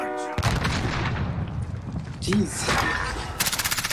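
Bursts of gunfire crackle through a Call of Duty Warzone match, with rapid volleys and a closer rattling string of shots at the end, while a voice speaks briefly.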